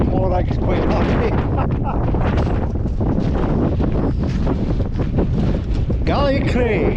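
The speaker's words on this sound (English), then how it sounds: "Beautiful view, and the wind is high." Gale-force wind on the coast at the Mull of Galloway, a loud, continuous roar buffeting the microphone throughout, with a voice speaking faintly underneath.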